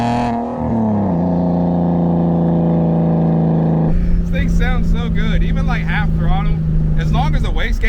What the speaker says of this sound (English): it sounds so sick. Like as soon as the wastegate dumps, it's just like this.